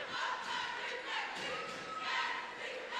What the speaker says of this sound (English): Very good crowd here tonight.